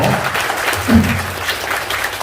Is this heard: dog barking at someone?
no